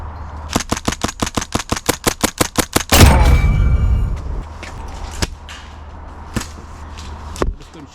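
Airsoft guns fire outdoors at a Warzone Coventry game: a steady string of about fifteen sharp, evenly spaced shots, a louder rushing burst, then a few scattered single pops further off.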